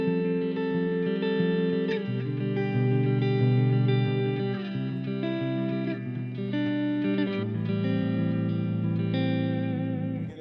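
An electric guitar plays sustained notes and chords drenched in reverb, each tone ringing and overlapping smoothly into the next, with no voices.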